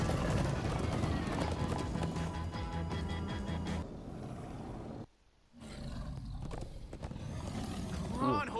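Horses gallop in Minecraft Story Mode, their hooves drumming loudly alongside snorts and a roaring creature, then cutting out for a brief moment before the pounding resumes in a sped-up game scene.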